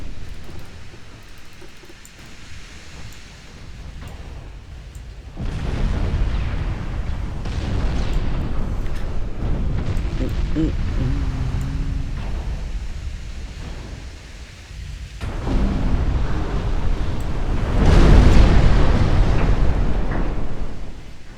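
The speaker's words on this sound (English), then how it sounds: "Fire a goddamn torpedo." A torpedo launch and detonation in an Austro-Hungarian naval war game: deep rumbling booms swell and fade in long waves, with a heavy blast near the end over a constant low roar.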